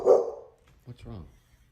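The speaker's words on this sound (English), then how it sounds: "the dog continues to bark, clearly very angry at something." A pet dog lets out one loud, close bark, followed after a short pause by a couple of quieter, shorter yips.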